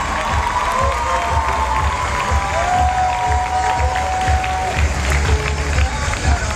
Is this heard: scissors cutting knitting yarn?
no